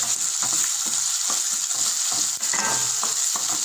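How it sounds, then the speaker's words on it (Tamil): Onions and salt sautéing in a pan for Tamil tomato thokku, a steady close sizzle and crackle of frying with repeated scraping stirs of a spoon throughout. "வெங்காயம் நல்லா வதங்கணும்."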